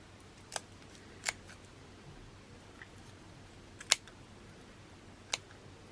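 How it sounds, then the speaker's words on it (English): Scissors snipping at broom bristles for a little witch gnome craft, heard as a few quiet, sharp isolated clicks spaced irregularly over a faint steady hum. "I just use my scissors to open up all the bristles of my broom"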